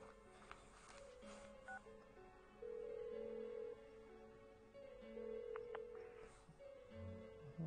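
An unanswered phone call in the video game Persona 4 Golden produces repeated electronic ringing tones. They are faint and sit over quiet background music.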